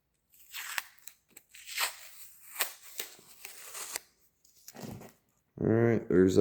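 Masking tape peels off freshly painted diesel injectors in short crackly rips and crinkles, close and intermittent, followed by someone talking at the end.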